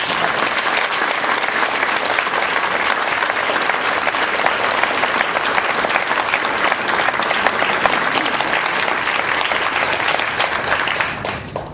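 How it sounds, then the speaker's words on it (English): A big round of applause from the audience at a charity concert for the blind, loud and sustained clapping from many hands filling the room for nearly twelve seconds, tapering off at the very end. "Ladies and gentlemen, can you give a big round of applause to Matthew?"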